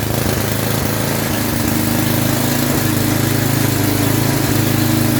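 A snow blower's small gasoline engine runs steadily and loud with a buzzing, even hum, its choke adjusted while idling, and no voices are heard.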